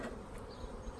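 Honey bees buzzing steadily around a beehive on a May morning, a dense continuous hum close by with no voices.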